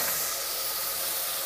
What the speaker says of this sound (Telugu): ఇప్పుడు మనం ముందుగా కట్ చేసి పెట్టుకున్న టమాటా ముక్కలు వేద్దాం